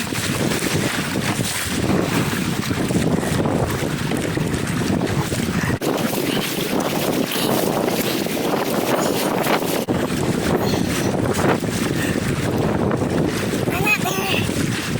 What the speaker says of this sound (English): The wind's getting a little stronger today!